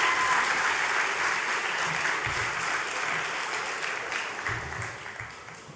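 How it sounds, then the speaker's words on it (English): An audience at a school graduation applauds steadily, a dense wash of clapping that fades gradually toward the end, with no speech over it. "So let's just applaud her and then give her some encouragement."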